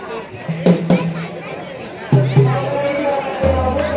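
Crowd chatter fills the grounds of the Navghareshwar Ganesh temple during its anniversary celebration. Many voices overlap into a steady hubbub, and a few nearer talkers stand out from the babble.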